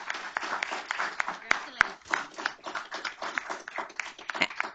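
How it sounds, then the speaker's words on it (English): Board meeting audience giving students another round of applause, steady dense clapping with a few sharp louder claps standing out, continuing throughout. "Let's give these students one more round of applause"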